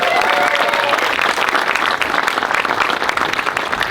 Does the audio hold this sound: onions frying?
no